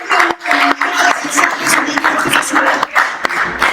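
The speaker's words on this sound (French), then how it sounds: "Et maintenant, tu es en train d'applaudir." An audience applauds at a church ministry gathering, a continuous clapping texture running throughout, mixed with a voice speaking over it.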